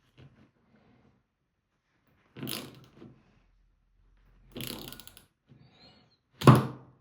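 A steel bolt clamping a carbon bike stem from a Fairlight gravel fork gives way under a torque test, heard as a few close dull mechanical thunks and cracks in separate bursts with quiet between, the last one the loudest.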